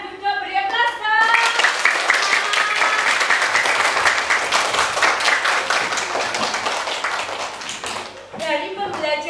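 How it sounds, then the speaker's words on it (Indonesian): An audience in a classroom training session breaks into loud, sustained clapping lasting several seconds, with a voice speaking briefly before and after the applause. "beri aplaus dong"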